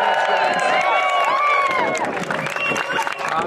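A loud crowd cheering and whooping with clapping mixed in, high excited voices rising and falling throughout, at a Pacific Crest Trail hikers' event.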